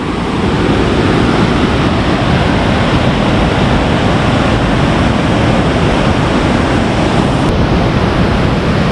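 Water flows inside Cueva del Agua in the Huasteca Potosina with a loud, constant roaring rush that fills the cave without a break and no voices heard.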